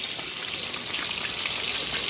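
Food frying in hot oil over a gas flame in a home kitchen, part of a big batch of cooking, a steady close hiss and crackle of sizzling throughout with no talking.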